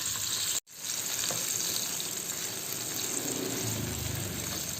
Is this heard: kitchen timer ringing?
no